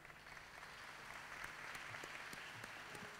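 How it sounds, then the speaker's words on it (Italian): Audience applause for a teacher at a Pesaro dialect poetry book presentation, a dense steady patter of many hands that keeps going for the whole stretch at moderate, somewhat distant level. "Facciamo un grandissimo applauso all'insegnante Maria Antonietta Donati."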